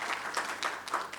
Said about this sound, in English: A big round of applause for them for this morning,